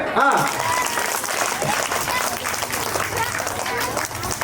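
An audience at a school annual day applauds loudly and steadily, dense clapping filling the hall with a few voices calling out over it.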